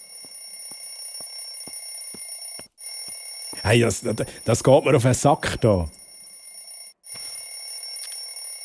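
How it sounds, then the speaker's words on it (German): A mobile phone rings with a steady, repeating electronic tone that carries on throughout, briefly interrupted while someone speaks German over it. "das ist mein Handy, das läutet."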